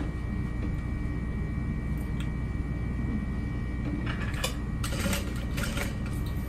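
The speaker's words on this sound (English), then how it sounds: "I'll go ahead and top stitch." A sewing machine topstitching a barrel bag at long stitch length, a continuous dense mechanical whir with steady rapid needle rhythm, close and even, with a few brief clicks and rustles of handled fabric toward the end.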